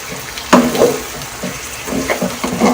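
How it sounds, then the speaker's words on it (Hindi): Kachnar (orchid tree) buds fry in a pan, giving a steady close sizzle that is broken by the scrape and clatter of stirring, with no voices over it. "मैं इसे फ्राई करना है अच्छे से"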